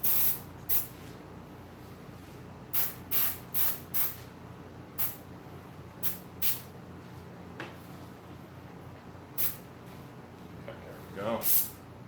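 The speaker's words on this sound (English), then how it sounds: "I'm airbrushing in this manner because I've never done it before" An airbrush spraying paint onto the fur of a mask, a series of short, soft hissing bursts at irregular intervals over a low steady background, with a longer, louder spray near the end.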